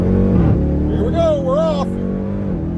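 A Jeep Trackhawk with all-wheel drive accelerating hard, its engine note rising and falling through gear changes as a loud, continuous roar heard from inside the car.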